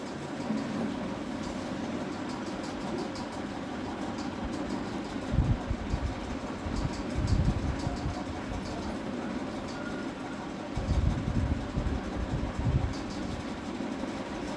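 A sewing machine stitches dress placket strips with a steady mechanical whir, broken by several short bursts of faster, louder stitching.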